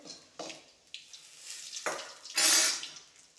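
Mustard seeds and dried red chillies frying in hot oil for a prawn dish, giving a few soft crackling pops and stirring clatter, with a louder sizzling burst near the end; no voices.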